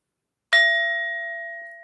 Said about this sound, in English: Y'all gonna get sick of me with this bell, right?